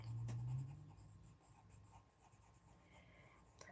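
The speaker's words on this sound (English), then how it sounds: "And this time, I'm going to use it with colored pencil." Colored pencil drawing on a small 5 by 7 inch abstract piece, heard as a soft, close scratching across the paper with a low hum beneath it. The stroke is louder at the start and then settles into steady, quiet shading.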